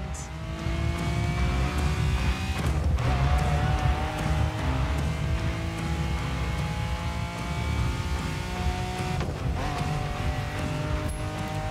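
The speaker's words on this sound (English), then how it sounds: "So I guess we're driving the Miura." A Lamborghini Miura driven in The Crew Motorfest, its engine droning loud and steady with shifting pitch through gear changes, joined by brief tire noise and a couple of sharp transients, with no talking.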